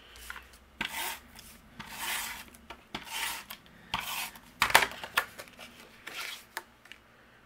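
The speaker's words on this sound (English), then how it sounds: "I'm gonna take this panel and we're gonna trim this down into 1/2-inch strips" Paper panel being trimmed into thin strips for a handmade spring card, heard as a series of soft rasping cutting strokes with short pauses between them, close and quiet with no talk.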